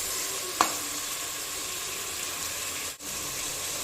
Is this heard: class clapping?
no